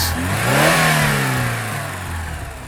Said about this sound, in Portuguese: Vamos então guiar o BYD King GS com motor a combustão e também motor elétrico.